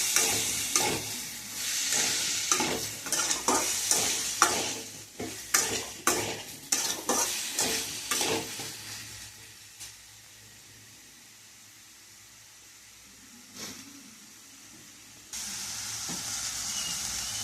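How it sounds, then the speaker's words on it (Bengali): Purple cucumber curry with chilli paste is stirred and fried in a pan: a run of rhythmic scraping strokes over sizzling, then a quieter simmering stretch with a lone clink before the sizzle swells again. "এবার এটাকে ভালো করে নাড়াচাড়া করে আর একটু কষিয়ে নিয়ে"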